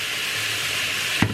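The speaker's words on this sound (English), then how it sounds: "I'm just going to let this saute for a few minutes" Bean sprouts sautéing in a pan as filling for panadillas, a steady close hiss and sizzle throughout, with a brief clatter near the end.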